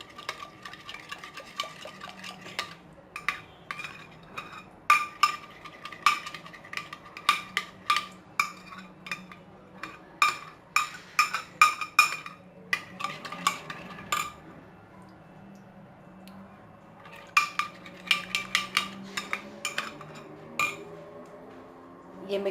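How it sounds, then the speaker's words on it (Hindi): Spoon stirring tomato yogurt chutney ingredients with white vinegar and two tablespoons of olive oil in a bowl, giving repeated light clinks and scrapes in bursts with short pauses, close and fairly quiet. "तमाम चीज़ों को मिला लें अच्छे से।"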